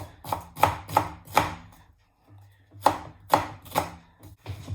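Vegetables for a beef curry being chopped on a board, with two bursts of three or four quick, crisp knife strikes separated by a short pause, close and clear with no talking.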